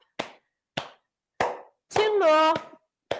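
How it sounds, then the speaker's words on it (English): Tapping and clapping during a gentle seated chair exercise: three sharp single hits spaced about half a second apart, then a brief tonal vocal burst, then another hit, close and clear. "we're going to do tap, tap, clap, clap"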